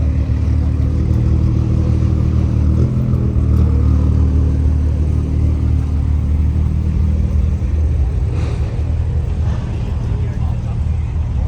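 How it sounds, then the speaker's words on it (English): A Toyota Supra backs in at a busy outdoor night car show in Irvine, its engine a steady low rumble beneath loud crowd noise and nearby talk. "Supra backing in here."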